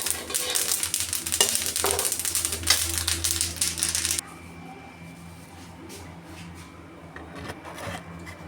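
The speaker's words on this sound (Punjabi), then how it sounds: "ਇੱਧਰ ਮੇਰੀ ਸਬਜ਼ੀ ਵੀ ਰਿੱਝਣ ਡਈ ਆ ਖੁੰਬਾਂ ਦੀ" Mushroom curry cooking in a pan sizzles loudly and steadily up close for several seconds, then cuts abruptly to a much quieter, faint bubbling background.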